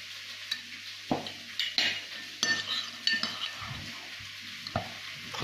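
Spices and salt are stirred in a pot while making red lentil soup, heard as close scraping and clinks of a utensil against the pot over a soft sizzle, in irregular bursts.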